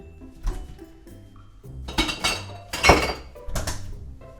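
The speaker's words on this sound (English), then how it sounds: "That was definitely not a lot of white wine bottles you just heard." Glass white wine bottles clink and knock together in several bright, ringing bursts, up close and loud in a home kitchen, with the sharpest clash near the middle.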